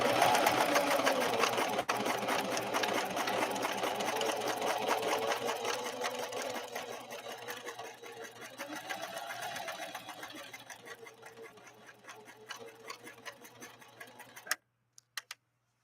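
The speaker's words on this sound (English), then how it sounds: "now we're laying down a traditional zigzag" A Husqvarna Model 145 sewing machine stitching a traditional zigzag, a fast steady mechanical whir and rattle that slowly eases off before stopping abruptly, followed by a couple of faint clicks.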